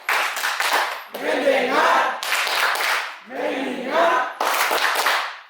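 An audience in a lecture setting claps in a rhythmic clap-focus routine: three sharp bursts of group clapping alternate with voices chanting in unison between them.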